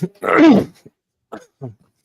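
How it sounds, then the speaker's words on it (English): A single harsh cough with a throat-clearing quality, close and fairly loud, followed by a couple of short, softer vocal sounds after a pause. "I would cough right when it was my turn."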